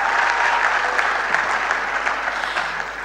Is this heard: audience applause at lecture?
yes